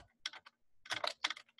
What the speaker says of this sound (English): I'm going to type scalpel, and I'm going to type Lab3